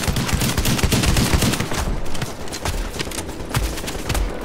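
Rapid automatic gunfire from a machine gun in a video game, dense overlapping shots rattling loudly and continuously throughout without pause.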